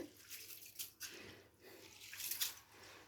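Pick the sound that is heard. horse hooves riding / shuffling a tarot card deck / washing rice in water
washing rice in water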